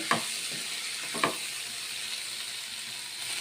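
Steady crackling sizzle of potato pieces frying in oil, with a few sharp clinks of a utensil early on.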